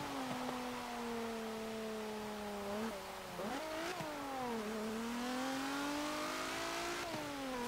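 A 1986 Dodge Shelby Omni GLHS races in Forza Motorsport 7, its engine droning steadily and loudly. The pitch climbs, drops sharply at gear shifts, then rises again in continuous revving with no talk.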